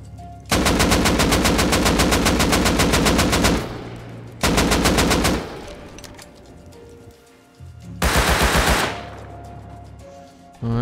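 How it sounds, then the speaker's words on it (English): Rapid automatic gunfire from an AK rifle and a Tommy gun in the survival game Rust, loud and close, coming in three sustained bursts separated by short pauses, with no talking. "I can shoot it out from here, I think. My AK's gonna die, but I got the Tommy."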